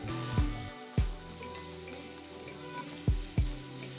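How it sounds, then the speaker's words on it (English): Finely chopped onions sizzle steadily in a hot pan, with several sharp scraping knocks from a utensil as they are stirred, the frying hiss continuing underneath between strokes. "We stir our onions so that they cook evenly"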